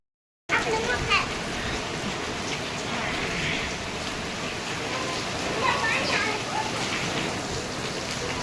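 Heavy rain pours down on open farmland in Ranpur, a dense steady hiss of drops hitting the ground that starts suddenly and continues loud and unbroken, with people talking faintly underneath.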